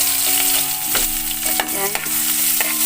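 Garlic and onion frying in a pan for an eggplant omelette, a loud continuous sizzle with scraping stirs and clinks of a utensil, no talking.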